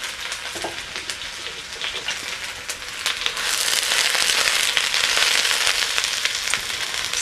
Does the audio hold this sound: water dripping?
no